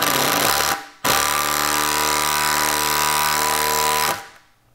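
A Milwaukee impact driver backs a fastener out through an impact socket: a loud, continuous buzzing hammer rattle of about three seconds, close by, after a brief burst and a short pause, then cutting off.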